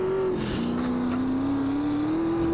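A car engine with twin exhausts drones steadily in GTA San Andreas, a sustained tonal hum that dips briefly and then climbs slowly in pitch as it revs, with no talk over it.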